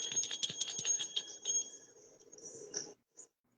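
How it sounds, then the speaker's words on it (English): A small meditation bell rings several quick metallic strikes in a row, then a longer ringing tone that fades, followed by one last soft ting, close and clear with no speech. "And then I got my little bell."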